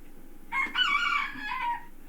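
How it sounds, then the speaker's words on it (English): A rooster crows once in a single clear, moderately loud cock-a-doodle-doo rising and trailing off over a quiet background. "Here's my handsome rooster, Chickahominy."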